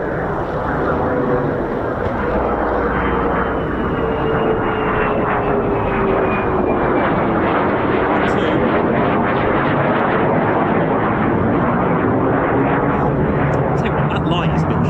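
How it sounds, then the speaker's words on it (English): F-35 fighter jets roar over RAF Lakenheath, a loud continuous rushing jet noise with a slowly shifting pitch that persists throughout, while someone speaks over it. "So Point Charlie is just over the trees, just to my right, and they'll F-35s will go into downwind."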